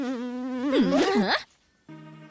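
A cartoon fly buzzes loudly and steadily, then swoops in a few quick rising and falling whines before a short silence and a final steady buzzing tone.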